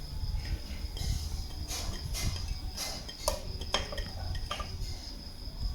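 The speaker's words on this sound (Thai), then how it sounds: "เมื่อเรียบร้อยแล้วก็ใส่ผักต่างๆ ที่เราเตรียมไว้ครับ" Vegetables are tossed and mixed into Thai larb in a bowl, giving scattered light clinks and scrapes of utensils over a faint steady chirping of crickets in the background.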